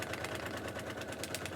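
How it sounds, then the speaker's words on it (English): A sewing machine stitches through the seam allowance of a paper-pieced fabric heart, a fast, steady mechanical chatter that runs evenly and close throughout with no pauses. "I'm going to sew through the seam allowance all the way around the outside"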